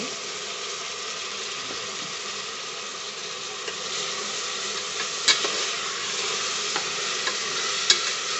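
Four finely chopped tomatoes frying in a pan for tomato bath produce a steady broad sizzle, with a few faint clicks and stirring taps rising above it.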